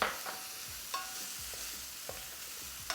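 Shallot being stirred into a sizzling creamy Cajun sauce in a pan, with a steady frying hiss and a few soft spoon scrapes and clicks spread through, no talking.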